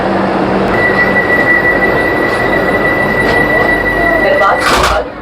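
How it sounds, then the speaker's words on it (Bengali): Puri-Howrah Vande Bharat Express pulling away from the platform, a loud, steady rolling rumble with a thin sustained whine and a brief sharp squeal near the end. "ট্রেন রওনা দিল হাওড়ার উদ্দেশ্যে।"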